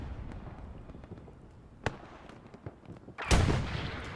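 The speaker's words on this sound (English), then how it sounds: "these long-range rockets are everywhere today" Long-range rocket explosions in the WWII shooter Hell Let Loose on the Utah Beach map, 49v49 match: scattered distant pops, one sharp blast midway, then a loud, heavy explosion with a rumbling tail near the end.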